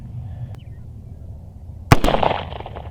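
A single sharp, loud pistol shot from a C96 Mauser cracks out outdoors at a shooting range after a quiet stretch of low background rumble, followed by a short echoing tail.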